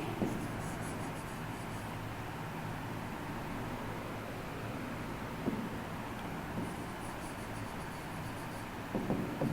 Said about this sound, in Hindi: तो हम यहाँ लिख देंगे अमन